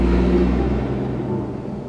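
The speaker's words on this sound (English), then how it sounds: "Sorry that there's a bunch of traffic, and I know you can hear it going by." A car passing on a busy main road, a low rumbling whoosh that is loud at first and fades away over two seconds.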